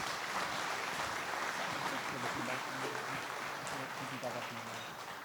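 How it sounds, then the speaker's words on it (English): A dinner audience at an investment event gives a sustained round of applause, a dense even wash of clapping that holds steady and tapers slightly at the end. "give her a big round of applause"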